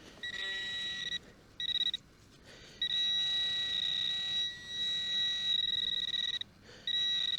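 A metal detecting pinpointer beeps loudly and close, a shrill continuous tone broken into long and short bursts as it is moved over the ground, with faint outdoor rustling underneath.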